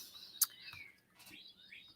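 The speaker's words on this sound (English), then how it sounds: "The birds are going off today, aren't they?" Birds chirping outdoors near a house, a few faint, scattered tweets and short calls against a quiet background, distant and soft with no talk.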